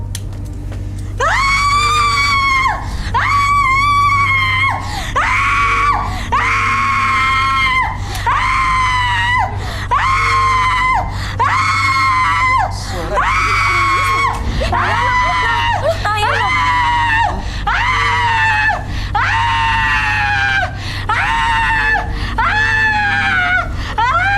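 A woman screams over and over in long, loud, wavering cries, each followed by a short pause, with a steady low hum underneath.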